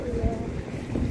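Wind buffets the microphone outdoors on arrival at a shopping mall, a steady low rumble with gusty swells through the whole short moment.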